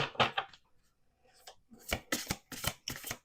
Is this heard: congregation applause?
no